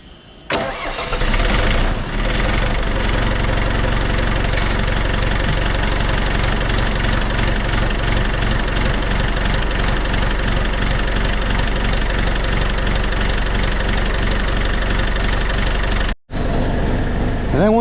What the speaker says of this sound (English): I'm gonna start that skid loader up so it can start to warming up